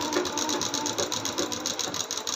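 A sewing machine stitches a salwar, a fast steady mechanical clatter of needle strokes running continuously at close range with no talking.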